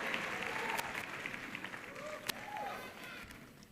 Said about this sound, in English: Let's give her a huge round of applause as she comes up for us.